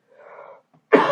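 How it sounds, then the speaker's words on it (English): A single short cough bursts out loudly at the very end after a brief soft throat sound and a pause, close to the microphone, from a person sitting at an inking desk. "might have to cough"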